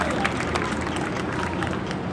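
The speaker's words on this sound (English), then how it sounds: "Let's give him a round of applause" A crowd at a 2012 celebration event applauds a local act, with sustained, fairly distant clapping and a murmur of voices running through it.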